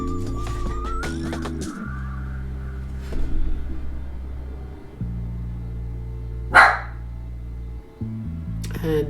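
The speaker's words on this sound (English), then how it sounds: "And that's my dog that chooses now to bark." A dog in an artist's studio gives a single sharp bark amid quiet room tones and electronic hum, with other soft noises scattered around it.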